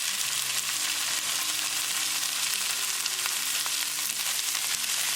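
Frozen Baja Roasted vegetable blend hits a hot pan with translucent onions, giving a dense, steady hiss of sizzling with faint scrapes of stirring running underneath.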